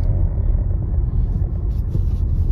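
A car climbing a high mountain pass road on a Ladakh road trip, a continuous heavy low engine and road rumble, close and steady with no talk.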